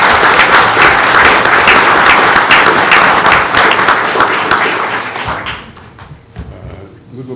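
Loud round of applause from a room of people at a regular board meeting, dense and steady for about five seconds before thinning out and fading to scattered claps.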